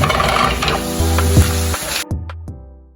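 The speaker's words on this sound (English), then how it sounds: "You just want to put this in here. You can mix it around with a spatula." Grated zucchini and meat are pushed around a hot sizzling pan with a spatula: steady loud frying hiss with repeated scraping strokes and knocks against the pan, close up, ending in a few sharp taps as the sizzle fades.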